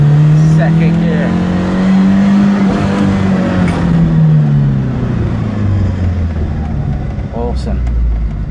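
A 1974 Fiat 128 SL coupe engine pulls hard in second gear, a loud close droning note climbing then easing as revs change, heard from inside the car with brief talking.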